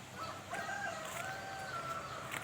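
Laying hens in a poultry coop holding about 950 birds, with faint, steady clucking and bird calls spread through a continuous barn hum, no single bird standing out close to the microphone.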